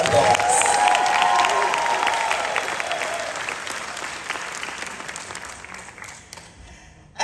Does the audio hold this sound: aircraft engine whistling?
no